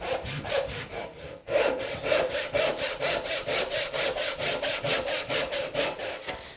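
A hand saw cuts down the cheek of a tenon in wood, giving steady, rhythmic rasping strokes close up, with a brief pause before the sawing resumes and carries on evenly to the end.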